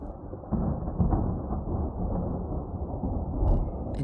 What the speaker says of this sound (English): Up above, thunder snow with flashes of lightning.